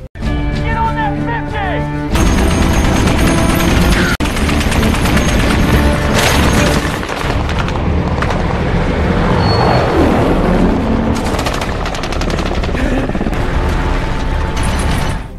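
Loud, sustained automatic gunfire rattles in rapid bursts for the whole stretch, dense and relentless, with mechanical clatter mixed in, as covering fire in a Mogadishu firefight.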